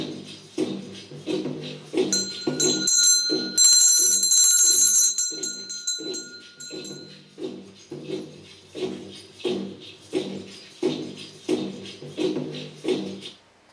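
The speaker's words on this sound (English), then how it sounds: "why is he ringing a bell?" A bell rings with bright, sustained metallic tones for a few seconds over steady rhythmic background music that continues after the ringing fades.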